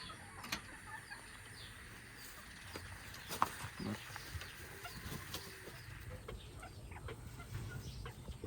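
Sussex chickens clucking in a coop among other hens and roosters, a steady scatter of soft clucks and calls at moderate distance with a few sharper squawks over a low farmyard background.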